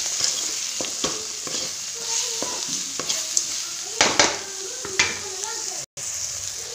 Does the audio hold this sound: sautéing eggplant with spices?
yes